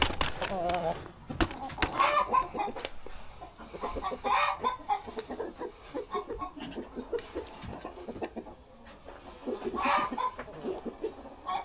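Several chickens cluck and squawk nearby in busy, uneven bursts as they are moved near an egg incubator, with a person's voice now and then among them.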